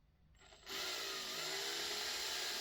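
A power drill fitted with a 2.5 mm bit spins up at its slowest speed, starting after a short quiet moment and then holding a steady, close whirring hum without pause.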